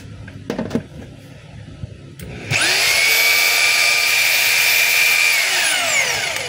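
A DeWalt D25032 rotary hammer is test-run: after a few faint clicks and handling knocks, the motor starts and runs at a loud, steady whine for several seconds before it begins to wind down.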